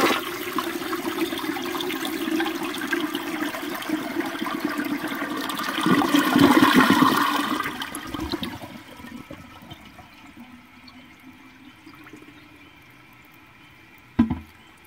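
A 1970 American Standard Cadet toilet flushes nearby, a rushing swirl of water that peaks and then drains away into a quieter refill trickle, ending with a brief sharp knock.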